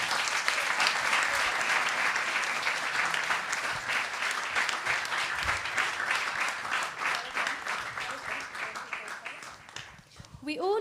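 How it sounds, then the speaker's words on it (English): An audience at an Easwaramma Day celebration gives students a sustained round of applause after a performance, a dense, loud clatter of many hands that gradually thins and fades before a voice starts speaking at the end. "Can we have one more round of applause"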